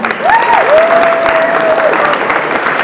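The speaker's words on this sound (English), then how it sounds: "Give them a round of applause, ladies and gentlemen." Loud, continuous crowd applause at a make-up effects awards ceremony, with a rising and falling whistle cutting through the clapping for a moment.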